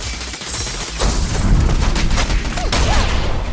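Heavy gunfire erupts during an ambush in the video game Zenless Zone Zero, a dense, continuous fusillade of shots that grows louder after the first second and stays sustained throughout.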